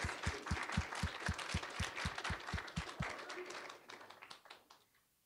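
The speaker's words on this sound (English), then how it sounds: "And we'll give them a round of applause" An audience at a global health lecture applauds award recipients, a steady burst of clapping over a rhythmic tapping pulse that fades out toward the end.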